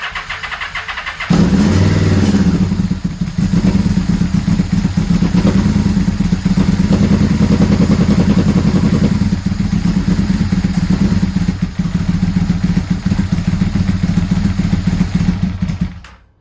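A Yamaha VMAX V4 motorcycle with freshly cleaned carburetors fires up on full choke, then runs at a loud, steady, slightly uneven idle with a mechanical clatter for the rest of the clip.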